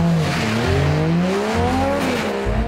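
Drift car tires squeal loudly on a skid pad, rising and sliding pitch tones over steady engine roar, continuous and close, with no talk.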